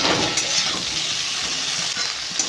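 Ginger and spices sizzling in a pan while cooking a mustard greens curry, a loud continuous frying hiss with faint stirring scrapes throughout.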